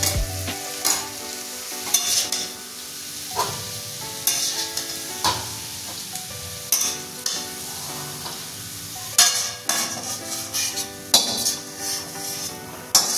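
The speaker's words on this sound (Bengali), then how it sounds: "সবজিগুলো ফ্রাই হয়ে গেছে, এবার নামিয়ে নেব" Vegetables for masala Maggi noodles sizzle and fry in a pan while a utensil scrapes and clatters against the metal in irregular strokes, close and busy, with no talking.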